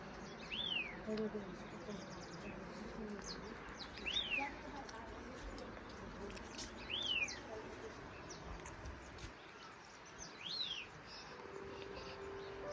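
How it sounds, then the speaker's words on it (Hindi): Several short bird chirps ring out in separate bursts, spaced a few seconds apart, against a faint outdoor hiss on a quiet morning in the mountains. "पक्षियों की चहचहाट"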